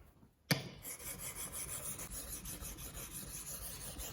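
A steady, rhythmic scraping of a steel chisel rubbing back and forth on a whetstone, quiet and close, starting after a brief knock.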